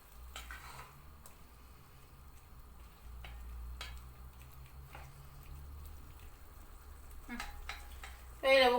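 Faint sizzling of onions and green peppers frying in a pan, with occasional clinks and stirring scrapes, a low hum underneath and a louder clatter at the end.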